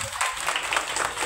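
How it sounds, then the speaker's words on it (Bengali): An audience claps after an amateur stage play, a short, fairly dense round of applause with some voices mixed in underneath. "জোরে হাততালি।"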